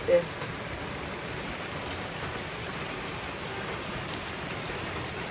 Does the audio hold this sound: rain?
yes